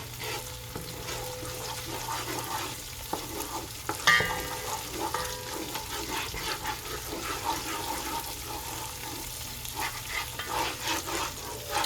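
Vegetable stew frying in a pot while being stirred, a steady close sizzle with scraping utensil sounds and a sharper clatter partway through, no voices.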